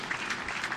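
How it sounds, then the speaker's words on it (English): Brief burst of studio audience applause on a live comedy talk show, a short patter of claps filling the moment at moderate level. "Round of applause for that advice."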